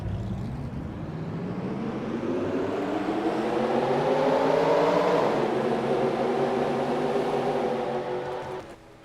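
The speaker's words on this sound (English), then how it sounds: "Drivers, start your engines!" Race car engines firing up together in a NASCAR racing video game at Daytona, a loud rising droning whir of many engines swelling over several seconds, then dropping away at the end.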